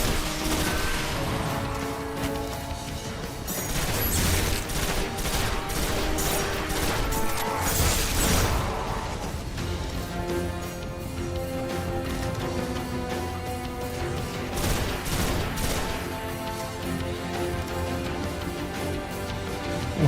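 Dense gunfire from the Destiny video game, with continuous volleys, bursts of shots and crashing impacts layered over a busy game soundtrack for the full stretch, loud and close with no pauses.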